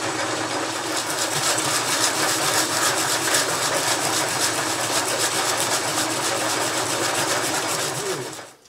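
A metal lathe cuts threads on a back plate for a chuck, running with a steady, close mechanical whir and fine rapid ticking before the sound winds down at the end.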